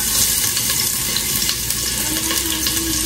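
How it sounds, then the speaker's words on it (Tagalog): Ginger and lemongrass sauté in a pan for Filipino tinola, giving off a loud, continuous, dense sizzle with faint stirring underneath and no voices. "nagigisa po ng tinola, sa pang-tinola"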